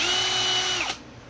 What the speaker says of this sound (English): Go ahead and drill a hole here in the tail.